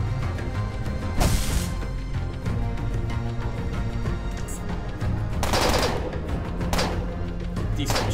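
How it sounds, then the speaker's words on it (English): Machine gun fire in the video game Underrail, rapid bursts of automatic shots over a dense, continuous din of combat noise, with sharper crackling volleys standing out near the start and again later. "Decent machine gun. That does lots of damage."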